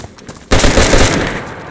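Gunshots in DayZ, a sudden loud burst of rapid fire erupting after a quiet lead-in and continuing as dense, close shooting with no talking.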